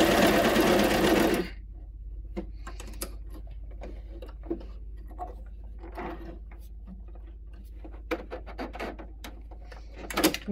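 A Brother CV 3550 coverstitch machine runs a short burst of loud, dense stitching on a test hem, then stops; quieter clicks and fabric handling sounds follow.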